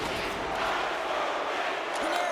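Home crowd at an NHL hockey game between the Flyers and Rangers booing a player, a dense, sustained roar of disapproval filling the arena without break.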